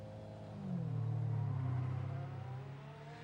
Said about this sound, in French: le bruit est assourdissant. En particulier avec les changements de rapport.